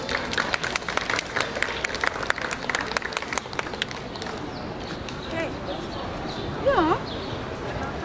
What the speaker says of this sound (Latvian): aplausi jauneklim